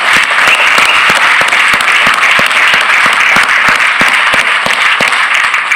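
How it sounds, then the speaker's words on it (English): Loud, dense audience applause fills a leadership summit hall, steady and sustained throughout with no pause, a large crowd clapping together at close range. "Let's give a big round of applause to Luke Neuenhuis"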